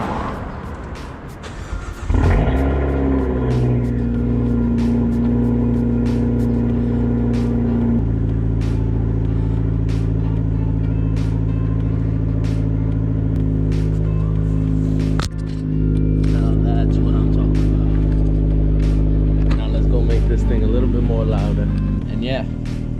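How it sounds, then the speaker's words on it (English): A car with a downpipe exhaust cold-starts after a brief crank, then settles into a loud, steady, close idle with a couple of sustained higher revs, voices talking faintly over it. "how about we start it off with a nice cold start?"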